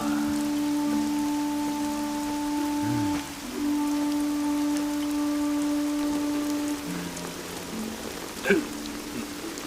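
Heavy rain pours in a steady broadband hiss through an ancient-costume wuxia drama scene, with sustained musical tones held over it and a brief sharp knock near the end.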